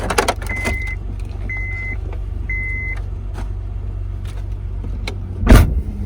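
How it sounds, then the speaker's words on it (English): A car struggles to start in hot weather, a steady low cranking engine drone with three short electronic chimes early on and a loud thump near the end, heard up close with no talking. "My car has never done that where it didn't want to start."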